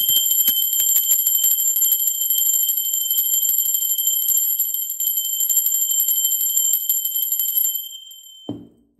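A bell rings continuously for about eight seconds with a bright, sustained metallic ringing like an alarm clock bell, then cuts off, followed by a brief thump.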